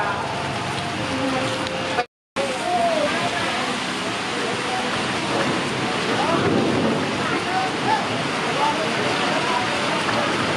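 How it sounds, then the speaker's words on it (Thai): Heavy rain at Bang Sue railway station pours as a dense, continuous hiss with a low rumble, while people talk faintly in the background. "ฝนตกด้วย"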